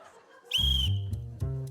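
A referee's whistle blasts once, loud and shrill, for about a third of a second during a comedy game-show task, followed by low rumbling handling noise and a short second burst.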